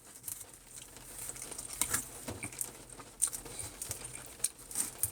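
Light rain patters during a car-side live stream, soft irregular taps and spatters at low level, no talk heard.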